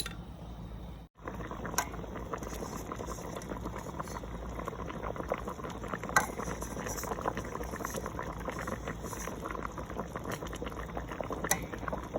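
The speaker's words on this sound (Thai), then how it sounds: "รอน้ำเดือดก่อนนะคะ" Water boils steadily in a pot, a dense continuous bubbling and hiss with a brief dip near the start, no voices.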